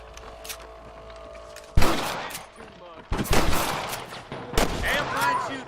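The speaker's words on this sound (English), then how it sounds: "Damn fine shooting, boys" Gunfire in a Western shootout from a video game: after a quiet stretch, loud overlapping rifle and pistol shots burst out in several heavy volleys, each ringing and echoing before the next.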